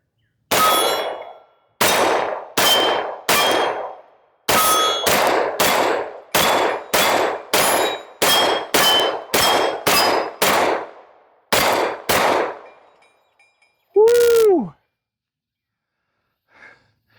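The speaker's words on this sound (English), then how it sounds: "So let's shoot some rounds, see how she runs." Rapid-paced shots from a Freedom Ordnance FX-9 9mm pistol-caliber carbine ring out one after another, each followed by a bright metallic clang of rounds striking steel targets, in a steady string of about fifteen, then a final ringing hit after a pause.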